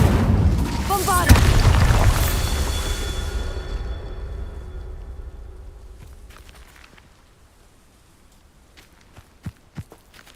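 A Bombarda explosion spell goes off in the Hogwarts Legacy video game, a loud booming blast with a crackling rumble that fades over several seconds, followed by a few faint sharp knocks.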